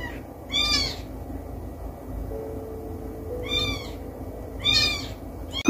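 A newborn kitten cries in a few short, high mewing bursts over a low, steady background hum, near and fairly soft.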